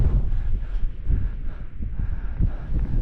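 Gusty wind buffets a microphone on a mountain ridge on the Isle of Skye, a low rumbling roar rising and falling without any talk.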